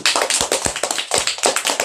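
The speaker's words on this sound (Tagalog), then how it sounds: "Pwede na po kayong pumalakpak pa." An audience at a church Bible talk on Ephesians claps in a quick, dense patter of many hands, loud and close and without any voices.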